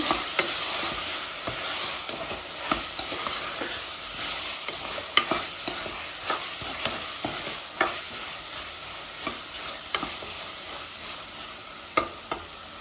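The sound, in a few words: pulao boiling in the pot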